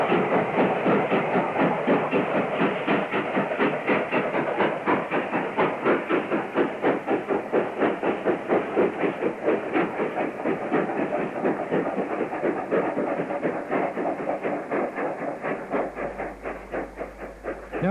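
A steam locomotive runs on the narrow-gauge Cambrian Coast line, Swindon-built to GWR standards. It gives a steady, fast rhythmic chuffing with hiss that carries loud and unbroken for the whole stretch, with no voices.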